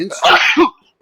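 A single close, sharp human sneeze bursts out inside a small aircraft cockpit on a flight from Las Vegas to Denver, a brief explosive burst that quickly cuts to near silence.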